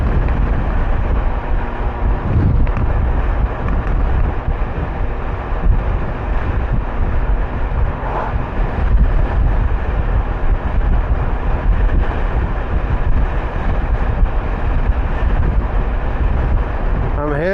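Strong wind buffets the microphone in a constant low roar with uneven surges throughout.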